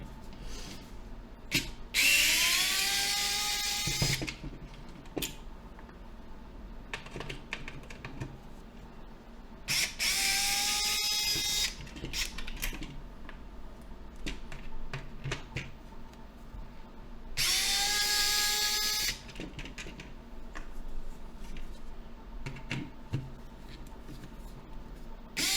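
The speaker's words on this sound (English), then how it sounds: "I have a rechargeable screwdriver here that I bought online with a PH2 bit in here that seems to fit these screws pretty well" A rechargeable screwdriver with a PH2 bit backs screws out of a Nintendo 64 to free the motherboard from the chassis, in three loud whirring bursts with quieter handling and clicks between them.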